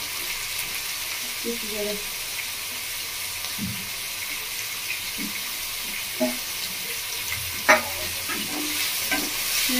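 Chopped carrots and onions being stirred in a hot pan for fried rice: a continuous frying hiss with scattered light clinks and scrapes of the utensil, close and fairly loud throughout.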